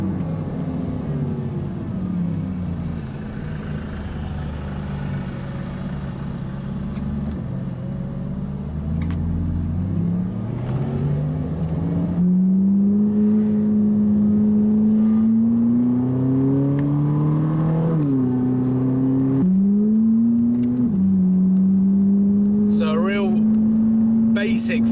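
A Ferrari 458 Italia V8 at light throttle on a track: a loud, close engine drone climbs steadily in pitch, with short gear-change dips, while someone talks over it.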